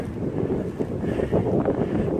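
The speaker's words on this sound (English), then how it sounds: "Windy, I don't know if you can hear it." Steady wind buffeting the microphone at a solo hammock wild camp, a low rumbling roar that swells slightly midway, with no voices.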